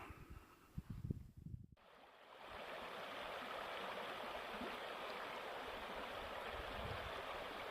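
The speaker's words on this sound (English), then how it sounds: "Now this is the San Rafael River" The San Rafael River in Utah flows steadily in a steady, broad rush of moving water close by, after a few seconds of faint handling noise at the start.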